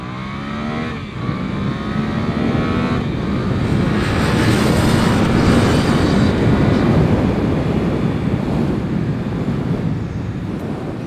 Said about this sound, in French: Là, je vais vous faire un petit 0 à 100 km/h. Pour vous montrer, regardez l'accélération.